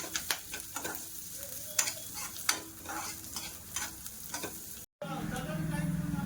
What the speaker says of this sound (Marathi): आता कांदा आणि कढीपत्ता टाकते. याला छान परतून घेते.